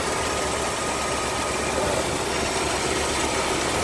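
A 1985 Dodge D150 Royal pickup idles steadily up close after a cold start, its low mid-pitched engine hum running evenly and alone with no voices.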